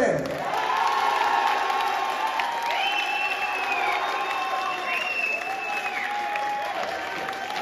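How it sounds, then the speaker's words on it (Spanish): An audience at a Nueva Cero discotheque variety show applauds and cheers for a performer, a steady dense wash of clapping with shouts and whoops over the top, lasting throughout at moderate loudness. "Fuerte el aplauso para Dominique Ferrer."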